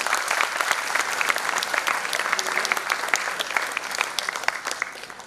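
An audience at a law university inauguration ceremony giving a round of applause for the dignitaries: sustained dense clapping from a large crowd, loud and steady with no voices over it.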